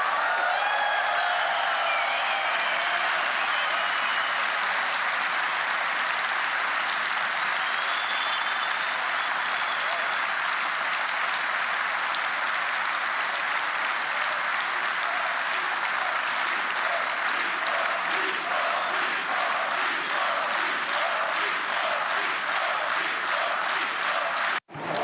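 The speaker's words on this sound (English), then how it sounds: "And the crowd is chanting encore." A large crowd applauding at a Budapest speech, a sustained roar of clapping that settles into a rhythmic pulsing chant toward the end, loud and continuous throughout.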